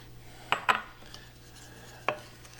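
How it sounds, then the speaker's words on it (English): A utensil clinks against a large mixing bowl as milk and sugar are stirred together for bread pudding: three short, sharp taps close by, two in quick succession and a third after a pause, over quiet background. "I'm just going to mix them well."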